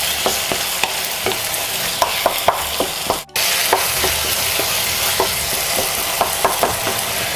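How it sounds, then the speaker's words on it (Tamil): Tawa pulao rice being stirred in a pan with red chilli sauce and tomato sauce: a steady, close sizzle with regular spatula scrapes and taps, plus one brief dropout midway. "இப்போ நல்லா மிக்ஸ் பண்ணிக்கோங்க."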